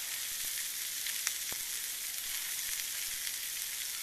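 Steady, dense sizzling of burgers frying in a pan over a cheap Chinese wood gas stove in British woodland, with a few faint pops and crackles, continuous and close throughout.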